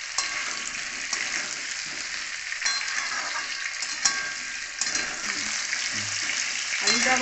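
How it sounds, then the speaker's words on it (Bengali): Cut potatoes frying with onions in hot oil, a close steady sizzle with intermittent stirring scrapes and small clatters of the pan, no talk. "আলুটা একটু লাল লাল করে ভাজা হবে,"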